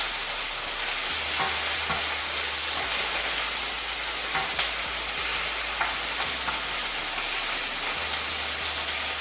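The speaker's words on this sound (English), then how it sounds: "So now we're going to add our ginger and garlic paste and stir that for a few seconds" Ginger and garlic paste sizzles steadily in a hot pan while being stirred, a continuous dense frying hiss with occasional faint scrapes of the spoon, and no voices over it.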